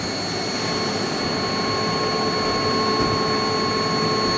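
CNC machine running a tool-call cycle for a touch probe, a constant machine hum with steady high tonal whines, no voices.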